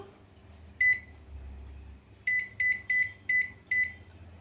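Microwave oven keypad beeps while a timer is set: one short electronic beep, a brief pause with a low hum, then five quick beeps in a row, close and clear.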